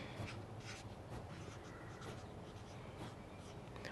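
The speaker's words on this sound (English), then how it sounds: "Write what you want on there" A permanent marker writes on a plastic mini-blind slat cut to length as a garden plant label, giving steady, close, scratchy strokes that run through the clip without pause and with no talking over them.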